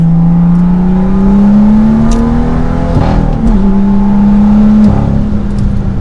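A BMW M2 with a six-speed manual, cruising on the road, gives a steady low exhaust hum that climbs gently in pitch, dips briefly and then holds, loud and close throughout, with no talking.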